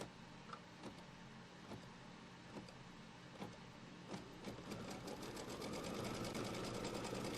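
A computerized sewing machine runs a quilting stitch line for a Kimberbell seasonal quilt, its steady, quiet whir carrying a rapid mechanical ticking that grows busier toward the end.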